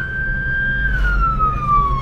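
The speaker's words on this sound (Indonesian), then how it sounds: "Ambulan" An ambulance siren wails on the road while carrying a body from a Denpasar hospital toward Solo, a loud, close tone sliding slowly downward over engine rumble, with no one speaking.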